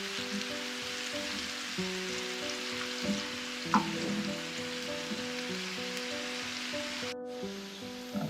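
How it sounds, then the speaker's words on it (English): Onions frying in a pan until browned, a soft steady sizzle under faint tonal background music, with a brief utensil tap and a sudden cut near the end, no one talking. "Onions are getting quite brown and well fried now"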